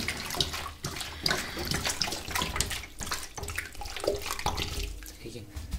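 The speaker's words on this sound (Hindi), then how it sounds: "उसमें आपको कुछ आधी बोतल, मतलब एक से डेढ़ लीटर तक पानी इसमें डाल देना है" Water is poured into a bucket of cow dung for a small home gobar gas plant, giving a continuous close splashing and gushing that lasts throughout with no talk.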